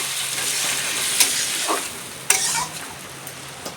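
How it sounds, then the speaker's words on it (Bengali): Fish curry made with morula fish simmers and sizzles steadily in a pan after water is poured in, with a few sharp clinks of a utensil against the pan. "এবারটা জল দিয়ে দিয়েছি, এবারটা ফুটতে থাকবে"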